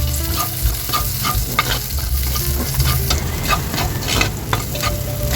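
Onions sautéing in a hot pan for pork menudo, a steady close sizzle with scattered stirring scrapes and clinks throughout, no voices.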